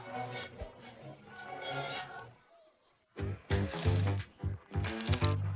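Gold coins drop and clink in two bright, jangling bursts separated by a short silence, each a clatter of many small metallic chinks.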